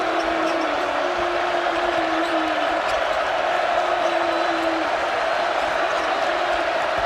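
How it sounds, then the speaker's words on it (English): Steady roar of a college basketball arena crowd at a Kentucky versus Arkansas game, a continuous dense wash of cheering voices with tonal hums, holding loud and even throughout without a break. "Crowd has awakened now."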